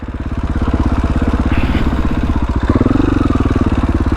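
A KTM 500 EXC-F dirt bike chugs along a singletrack trail in Colorado, its single-cylinder engine a loud, steady, pulsing thump close by, with brief shifts in pitch as the throttle varies.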